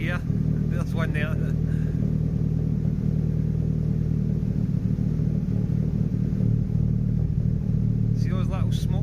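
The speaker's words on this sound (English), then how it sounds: "every now and then it's blowing a smoke ring just about here" A Nissan Pulsar GTiR engine idles steadily with a low, continuous rumble and occasional exhaust burps from a slight misfire, while someone talks over it near the start and end.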